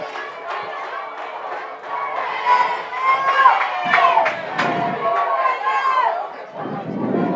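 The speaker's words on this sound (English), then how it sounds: "We have a big crowd on hand too." A big crowd at a high school girls' softball game in Lindsay, cheering and chattering steadily throughout, with shouts rising in bursts over a constant murmur.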